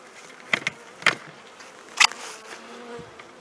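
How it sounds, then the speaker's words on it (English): Honeybees hum at low level in an open spring hive, with the buzzing broken by a few sharp knocks and clicks nearby from hive frames or tools. "most of the bees are in the middle here"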